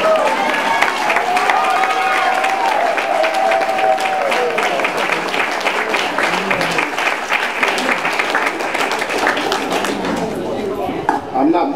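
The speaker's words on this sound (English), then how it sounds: "I just want to give a round of applause for Katro" Audience applause and cheering at a community public art mural dedication, a crowd clapping loudly and continuously with scattered whoops, the dense patter keeping up for over ten seconds before thinning slightly at the end.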